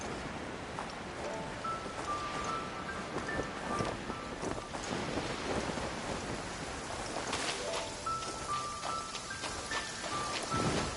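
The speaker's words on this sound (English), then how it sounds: "Taking a stroll in the middle of a downpour certainly rouses the spirit." Steady rain downpour in Genshin Impact's Inazuma, a dense continuous patter with gusts of wind and soft chime-like game tones drifting over it, no speech.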